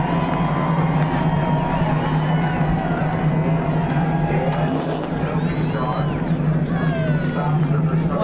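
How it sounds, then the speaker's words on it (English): Speedway grandstand crowd cheers as the winning driver comes down the front stretch at Stafford Motor Speedway, a steady roar under an engine drone while a commentator talks over it. "listen to this crowd as he comes down the front stretch"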